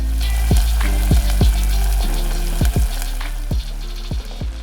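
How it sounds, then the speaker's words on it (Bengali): Potato chips dropped into a hot pan on a cooking show, a loud close steady sizzle under a low hum, punctuated by a series of sharp knocks and clatters of utensils, with no talking. "প্যানটা গরম হয়ে গেছে আমি চিপসটা দিয়ে দেবো"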